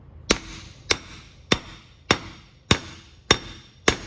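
Seven sharp metallic hammer taps on a tractor-trailer wheel seal at a steady, even pace, each ringing briefly before the next, close up with no talking.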